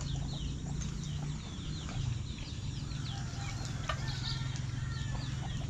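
Nine young ducks in a backyard pen give scattered soft calls and chirps over a steady low hum, with no clear voices.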